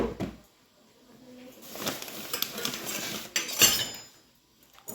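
Newly bought kitchen utensils, including ladles and a metal spatula, clink and rattle against each other in a few short, close bursts separated by quiet pauses.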